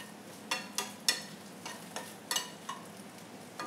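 Water splashed into a hot pan while cooking Sichuan-style beef, giving a series of sharp sizzling bursts, about seven close hisses spaced irregularly over a quiet background, with no talk.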